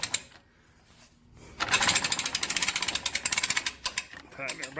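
A ratchet cranks a boat trailer strap tight, a loud rapid series of metallic clicks close by after a brief quieter lead-in.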